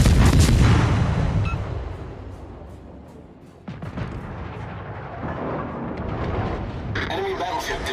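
Warship guns firing in a naval video game from the Podvoisky and Gnevny destroyers, with heavy booming salvos that fade, then rumbling shots and battle noise, loud and close, under other game sounds.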